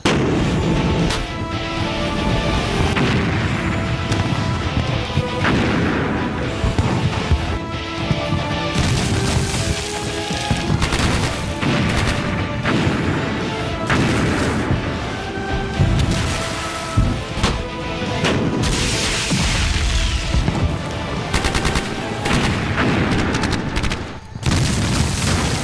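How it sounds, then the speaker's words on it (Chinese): Military battle with an artillery bombardment and gunfire, a dense, continuous barrage of heavy booms, crashes and rapid shots, loud and close throughout with no talk. "让炮团一营集中火力轰击蓝军，提防阵地。"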